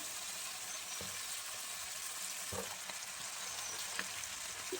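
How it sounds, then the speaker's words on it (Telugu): Finely chopped amaranth leaves fry lightly in a pan with a steady, even sizzle throughout, broken by a few soft stirring clicks. "లైట్గా వాటిని వేపుకుందాం"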